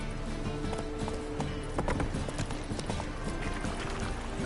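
Geralt's horse Roach in The Witcher 3 clip-clopping along at a steady, rhythmic gait, hoofbeats close and clear with faint ambient game sound beneath.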